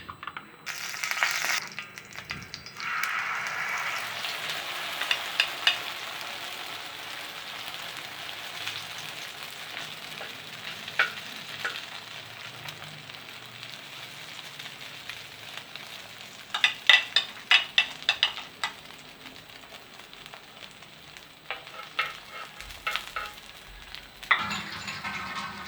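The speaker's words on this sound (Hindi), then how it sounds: "उसके बाद तवे पर घी डालने के बाद" Beaten egg mixed with spices sizzling in ghee on a hot tawa griddle, a steady crackling fry with occasional louder spatters and scraping stirs, no talk.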